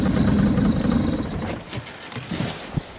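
Small boat outboard motor running steadily on a river while fishing for a huge catfish, a loud low rumble that fades somewhat partway through, with scattered knocks and splashes toward the end.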